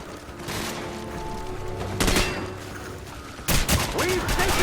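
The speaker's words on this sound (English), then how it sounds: "The weapons sound appropriately devastating." Gunfire from the video game Call of Duty 4: Modern Warfare: bursts of loud, booming shots in a battle scene, with a heavy volley around two seconds in and another sharp burst near the end, over constant background rumble.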